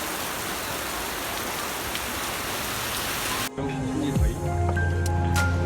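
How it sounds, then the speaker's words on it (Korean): Heavy rain pours down in a dense, steady hiss for several seconds, then cuts to a quieter scene with lighter patter and some tonal background hum, during a stay in Bali. "언제 비가 이렇게 오냐?"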